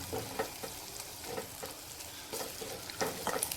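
Faint, steady sizzling of chilli powder and turmeric in hot oil, with soft intermittent scraping as the pan is stirred.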